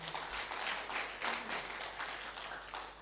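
Congregation applauding during a Sunday church service in Jakarta, a continuous wash of clapping from many people, quite faint and distant, with no voices over it.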